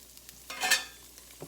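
A piece of garlic drops into hot olive oil in a pan and sizzles, a brief crackling hiss that swells and fades within a second, followed by light stirring clicks.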